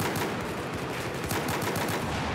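Rapid continuous pistol gunfire from a QSZ-92 in a video game, a dense rattle of shots close and loud throughout, with no talking.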